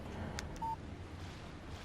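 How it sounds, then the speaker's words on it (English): A phone text message alert sounds in the Alan Wake video game. It is one short, soft electronic beep tone over a quiet background hum. "Text message from Barry."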